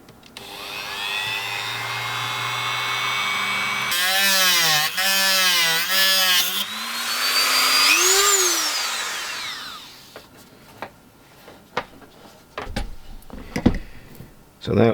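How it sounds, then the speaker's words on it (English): A Dremel rotary tool spins up and cuts through model railway track on a baseboard, its high whine rising and falling as it bites into the rail, then stopping, followed by clattering handling noises. "I'm now going to get the Dremel and cut across the line."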